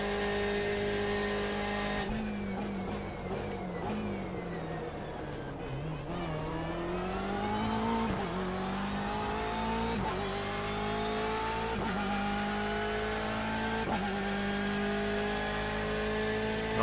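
BMW M8 GTE race car engine in the iRacing sim, revving loud and close with continuous high-pitched harmonics, shifting pitch as it accelerates through gears with brief upshift dips, no talk over it.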